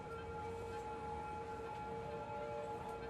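Ambulance sirens wail in the city-building game Cities Skylines, several steady overlapping tones sounding together, faint and continuous, with no talk.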